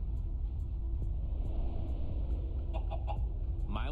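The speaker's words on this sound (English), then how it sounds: "But that clucking thing is what we came for" Clucking chicken in the Minecraft Story Mode video game, a few short quiet clucks over a steady low rumbling background, with no talking.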